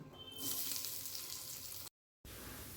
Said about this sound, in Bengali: সর্ষের তেল গরম হয়ে গেলে দিয়ে দিলাম কুচনো পেঁয়াজ